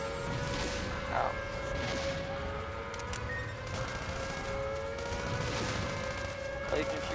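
Rapid gunfire from shooting down enemies in the video game Sand Land, a dense stream of shots and bursts that continues steadily over sustained tonal game music and effects.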